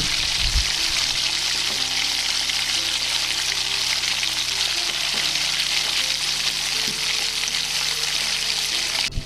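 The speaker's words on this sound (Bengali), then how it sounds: "ইলিশ মাছের যে অল্প তেলটা বেরিয়েছিল ওটা আমি নুন হলুদ মাখিয়ে রেখেছিলাম এবার ওটাও আমি ভেজে নিচ্ছি" Hilsa fish oil coated with salt and turmeric frying in a pan, a steady loud sizzle and crackle running throughout without pause.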